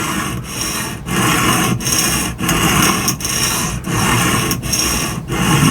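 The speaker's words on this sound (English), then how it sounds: "we want to grind until all the Sharpie's gone, and then we know we ground to a new apex on this side" A knife edge is ground on an Atoma diamond whetstone in a Tsprof K03 Pro guided sharpener, giving a loud, steady raspy scraping in repeated back-and-forth strokes with brief pauses between passes, close up and without voices.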